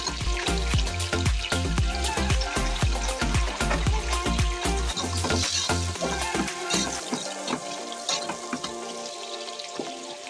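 Onions and green chillies frying in oil in a pan for biryani, a loud close crackling sizzle with frequent sharp spatters and stirring knocks, easing slightly toward the end.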